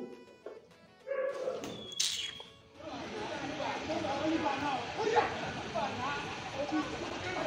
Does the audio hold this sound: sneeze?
no